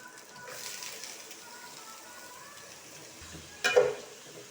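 Cabbage with drumstick leaves and carrot fries quietly in a pan with a soft, low sizzle, then a short, sharper scrape and clatter of stirring near the end.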